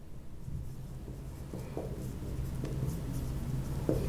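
Steady scratching of a pen or marker writing by hand, continuous and close for several seconds, with small taps and strokes, no voice over it.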